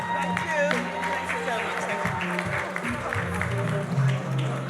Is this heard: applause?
yes